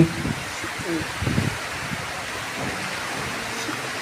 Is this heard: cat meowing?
no